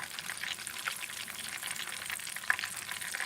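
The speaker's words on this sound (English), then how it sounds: "The oil's still popping." Hot oil pops and sizzles steadily around Haitian boulèt meatballs as they fry, with frequent small crackling bursts and one sharper pop.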